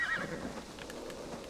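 Horse neighing in the video game Assassin's Creed Valhalla, a short whinny at the start fading into quieter hoof and ambient game noise, moderately faint, no clear talk.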